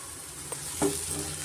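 Curry leaves hitting hot oil in a pan of chicken fry, a steady close sizzle with a sharper crackling burst as the leaves go in.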